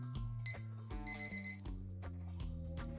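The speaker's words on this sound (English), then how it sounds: "Peter's alarm wakes him up." An electronic alarm rings with a bright high tone pulsing in short beeps over a layered, shifting musical jingle.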